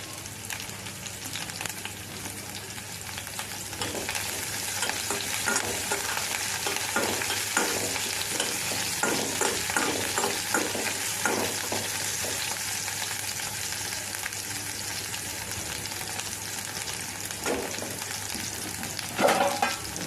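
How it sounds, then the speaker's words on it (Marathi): Garlic and green chilies fry in an oiled pan while cooking leafy greens, a continuous crackling sizzle with occasional stirring scrapes, close and moderately loud, with no talking. "त्यानंतर टाकत आहे लसूण मिरची"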